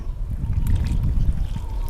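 Water is poured into a tray while cooking a Thai-style fish soup, a close, steady trickling and splashing that continues for a couple of seconds without speech.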